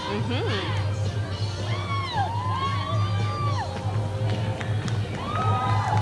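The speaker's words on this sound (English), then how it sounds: "Next up, I hear some cheering, David." A street parade crowd at the Hyack Festival in New Westminster cheers and whoops continuously, with rising and falling shouts and yells over a steady low rumble, fairly near and lively throughout.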